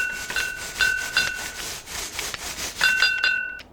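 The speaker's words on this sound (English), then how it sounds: "let me try to clean this rust off for you guys" A wire BBQ grill brush scrubs rust off metal in quick, rhythmic back-and-forth strokes, up close and loud, each pass a harsh scraping rasp.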